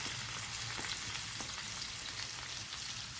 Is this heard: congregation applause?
no